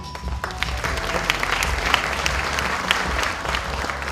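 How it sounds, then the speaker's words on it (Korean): Enthusiastic applause from a large audience at a formal ceremony as a speaker is invited to the stage, dense steady clapping sustained for several seconds without a break. "큰 박수 부탁드립니다."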